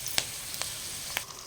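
Asafoetida dropped into hot oil tempering for radish chutney sizzles with a steady frying hiss, broken by a few sharp crackles and pops.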